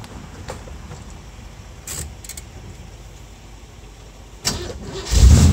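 Cold start of a 1957 Chevy wagon engine: faint clicks and key rattles come first, then the starter cranks and the engine catches with a loud, deep burst at the end.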